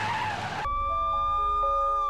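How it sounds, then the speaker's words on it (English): A second car plowing into another in a staged road crash: a brief loud rush of skid and impact noise that cuts off into lingering ringing tones. "And then a second car barrels down and plows into me."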